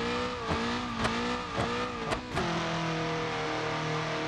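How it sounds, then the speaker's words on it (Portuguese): A Passat turbo engine in BeamNG.drive labouring at high revs while towing a van, overheating, with a steady droning tone broken by several short rhythmic surges before settling into a continuous strained hum. "O motor já tá indo pro saco, galera. Até onde não vai conseguir puxar esse Passat aqui, né, com essa vanzinha"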